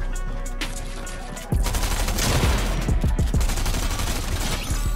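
Striker SMG fire in Fortnite Chapter 3, a loud, dense burst of rapid automatic shots that begins abruptly after a quieter ambient stretch and rattles on continuously to the end.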